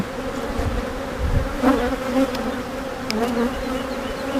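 Agitated honeybees drone steadily and loudly around an opened hive during a routine beekeeping inspection, with a few sharper buzzes rising above the close, continuous hum.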